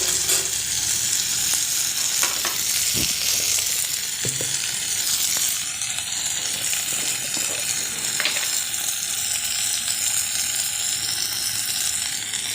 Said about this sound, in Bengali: তো সবগুলো একটু ভাজতে থাকবো